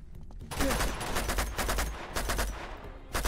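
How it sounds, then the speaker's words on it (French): An Uzi submachine gun in Uncharted 2 rattles off rapid, dense bursts of automatic fire after a brief quiet start, loud and close, with bullets spraying in quick succession. "le petit Uzi là. Ah, les balles partent trop vite."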